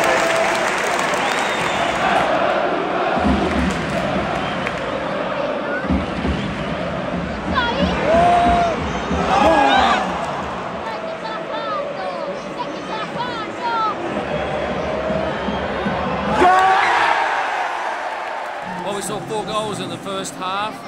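A home crowd at San Siro Stadium in Milan claps and cheers during a football match, loud and dense throughout, with surges of roaring and whistles rising above the steady applause.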